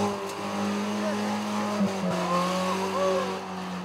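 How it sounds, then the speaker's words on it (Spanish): A 4x4 off-road vehicle engine held at high revs, a steady loud drone with shifting harmonics and brief tire noise, moderately close. "¿Se fijaron cómo mantuvo las revoluciones del motor?"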